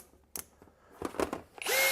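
A few clicks and knocks, then a cordless drill spins up briefly with a rising high whine, close by.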